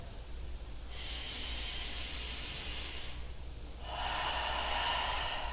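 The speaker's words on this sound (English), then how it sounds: "for one more deep breath" A deep breath in seated yoga, a long airy inhale followed by a fuller, louder exhale after a short pause, close to the ear over a low steady background hum.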